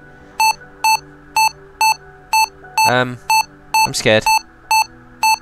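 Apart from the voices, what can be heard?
warning beeping in Re-Entry orbital simulator video game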